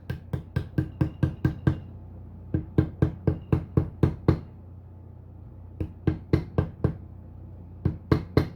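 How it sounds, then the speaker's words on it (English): Sharp metallic taps with a small tool driving a Super Duty Ford driveline e-brake shaft into place, rapid bursts of about five to eight evenly spaced knocks separated by short pauses, close and loud. "Now I actually need something smaller to tap it with."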